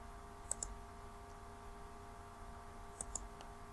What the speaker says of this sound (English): So I'm going to click out here.